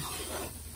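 Flour being stirred into melted butter in a pan while a roux cooks: a brief, soft scrape of stirring over a faint sizzle, ending in one slightly louder stroke.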